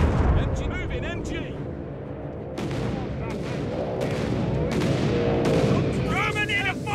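Battlefield gunfire and distant artillery rumble in Company of Heroes 3 during the Italian Campaign, a steady low roar with repeated sharp shots cracking through, while voices talk over it throughout.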